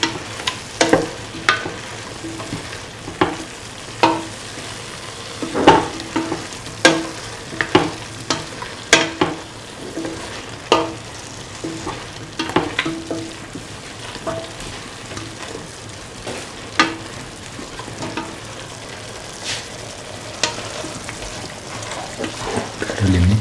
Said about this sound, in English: Thoroughly mix for 2 to 3 minutes.